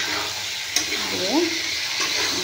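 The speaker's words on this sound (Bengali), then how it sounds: "ভালো করে মিশিয়ে নেব।" A pan of pointed gourd and potato curry being stirred, with a steady sizzling fry under soft scraping and a brief knock, close by, no speech.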